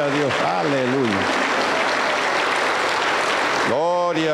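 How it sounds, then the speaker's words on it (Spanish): A congregation at a church service in Junín, Peru, bursts into loud, continuous applause that fills the room. A voice speaks over the start and again at the end. "Fuertes aplausos para el Señor Jesús"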